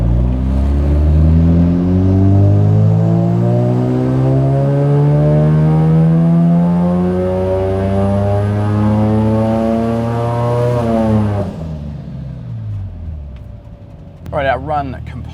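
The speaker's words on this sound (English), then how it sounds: "we'll get our engine up and running for a ramp run" A Mazda RX-7 FD 13B rotary engine roars loud and steady on a dyno, climbing in pitch through a long sustained pull before easing off and winding down.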